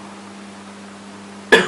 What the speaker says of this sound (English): I'll ask him now to cough to see whether the patient have bovine cough or not